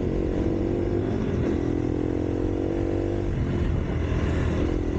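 A motorcycle rides over gravel, its engine a steady, close drone that swells slightly now and then, with no voices over it.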